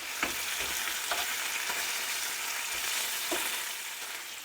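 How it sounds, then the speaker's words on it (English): Bacon frying in a pan, a steady hiss and crackle with scattered pops and a few sharper spits, close and moderately loud, with no talking. "while the bacon's frying"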